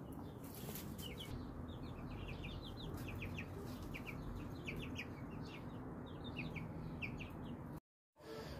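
Hens cluck and chirp in short repeated bursts while feasting on worms in the dirt, several birds calling fairly close over a low background hum, with a brief dropout near the end.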